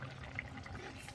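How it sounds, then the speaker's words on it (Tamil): Tamarind water pours into a pot of dried fish curry, a faint, short splashing trickle of liquid up close. "இப்போ புளி ஊற்றிக்கலாம்."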